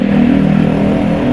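The Isuzu 3AU engine in an owner-type jeep idles close by, with a steady low rumbling drone and a light clattery texture, continuous throughout.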